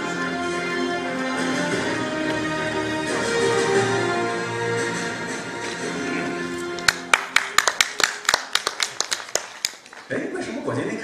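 A launch event for the drama series 生逢灿烂的日子, where the audience applauds two actresses coming on stage. Amplified talk comes first, then a run of sharp, evenly spaced claps rings out close and loud.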